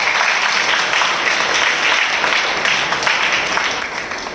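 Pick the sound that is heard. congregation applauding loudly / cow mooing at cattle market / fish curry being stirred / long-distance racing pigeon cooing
congregation applauding loudly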